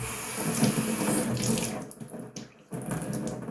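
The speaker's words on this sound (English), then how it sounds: "Rinse that off." Tap water runs steadily into a sink while a razor is rinsed off after a shave with a 1924 Ever Ready safety razor, a close, continuous splashing flow that briefly drops away before resuming.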